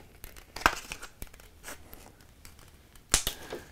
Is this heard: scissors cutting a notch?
yes